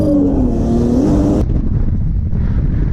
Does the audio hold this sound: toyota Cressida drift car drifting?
yes